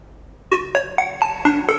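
A short tonal melody plays from a Google Nest Mini 2 smart speaker, six clear plucked notes in an even rhythm starting after a brief pause, close and alone.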